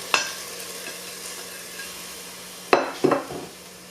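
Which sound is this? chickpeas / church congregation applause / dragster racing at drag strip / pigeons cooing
chickpeas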